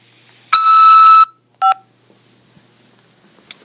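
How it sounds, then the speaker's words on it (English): Phone system tones on a collect call from a jail: a sustained electronic tone of just under a second, then a short beep after a pause, clear and loud in otherwise near silence. "After the beep,"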